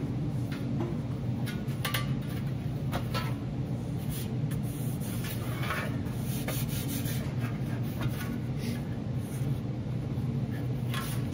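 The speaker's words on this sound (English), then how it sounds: "And I'll go ahead and hammer for a little bit." Hammer and dolly work on a 20 gauge sheet metal panel: a steady run of light, rapid taps at close range, continuous over a low background hum, with no talking.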